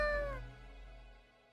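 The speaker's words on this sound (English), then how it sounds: "The cat mutters in contentment." A single cat meow from the video game Death and Taxes, a short, clear mew that fades quickly into a quiet hum of background tones.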